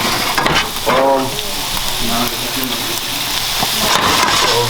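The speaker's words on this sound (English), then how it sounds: "Little veg, saute." Vegetables sauté in a hot pan with a steady close sizzle, while voices are heard briefly over the frying.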